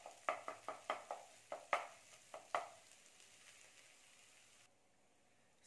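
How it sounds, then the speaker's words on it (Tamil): A metal spatula chops and scrapes egg parotta stuffing on a hot pan, giving about ten sharp rhythmic clinks in quick succession that then trail off into a soft sizzle, close and fairly quiet. "நல்லா கொத்தி கிளறி விட்டுருங்க"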